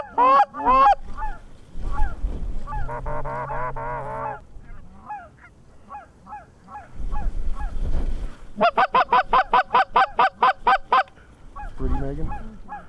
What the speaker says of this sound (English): just going to town on these big flocks of Canada geese